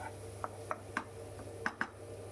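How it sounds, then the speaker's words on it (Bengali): A spoon stirs and fries spice paste for Bengali potato curry (aloo dum) in a pan, giving a few faint, scattered clinks and scrapes against the metal over a low steady background. "এবার ভালো করে নাড়িয়ে চাড়িয়ে নিচ্ছি। দেখুন ভালো করে নাড়িয়ে চাড়িয়ে নিচ্ছি। বেশ মশলাটা একটু কষে কষে আসছে"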